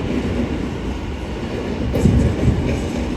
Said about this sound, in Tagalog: Ayan yung tren nila.